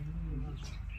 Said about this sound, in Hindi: देखिए ये हाउस स्पॉटर है, जिसे हम घरों में बोलते हैं किन्नौर